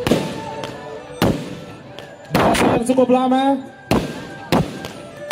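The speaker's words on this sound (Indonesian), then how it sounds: "Dan masih kemeriahan pesta kembang api di Mangkunegara di Pamedan ini." Fireworks bursting over a Cap Go Meh festival night at Pamedan Mangkunegaran in Solo, a series of loud, sharp cracks and booms spaced a second or so apart, with a crackling, whistling burst in the middle and someone speaking briefly between blasts.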